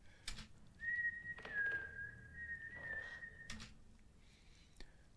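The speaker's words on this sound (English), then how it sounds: "He's whistling as well." A single man whistles a wavering tune in one sustained, slightly shaky melodic line, with brief knocks and rustles around it, from the film The Conjuring 2.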